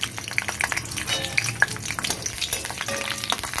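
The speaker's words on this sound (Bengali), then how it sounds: "আমি এবার রসুনগুলো ছেড়ে দিচ্ছি।" Garlic drops into hot oil in a wok and sizzles loudly up close, with sputtering crackles and scraping stirs over a brief, busy frying hiss.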